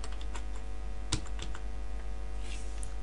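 Soft keystrokes on a computer keyboard tap out a search word, a few scattered clicks over a steady electrical hum, close and fairly faint.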